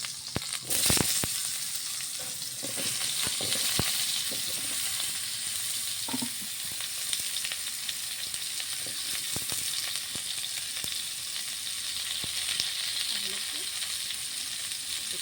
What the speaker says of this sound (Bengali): এবার আলুগুলোকে একটু ভেজে নেব।